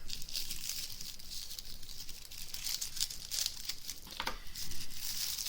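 Small scissors snip and crinkle through plastic packaging around custom pens, quiet close crumpling and rustling with a few sharper cuts.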